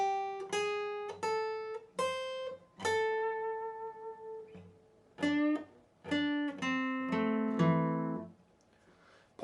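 Guitar solo section from a song played slowly, a sequence of distinct plucked notes and bends with pauses, clean and close, alone without talk.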